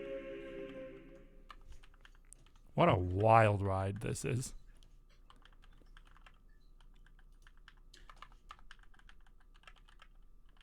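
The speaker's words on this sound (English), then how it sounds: "I am typing" Quiet, irregular clicks of typing on a computer keyboard continue under a short, close spoken line and then carry on alone as soft, scattered taps.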